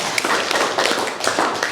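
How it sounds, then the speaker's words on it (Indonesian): A classroom of students clapping together, a brisk dense patter of hand claps in a couple of swelling bursts with no talk over it. "Oke, tepuk tangan dulu buat Genta"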